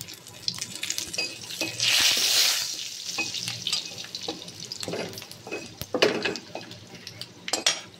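Bay leaves and Bengali five-spice hit hot oil in a wok, crackling and spitting in bursts with stirring and metal scrapes, the sizzle rising and falling, no voices.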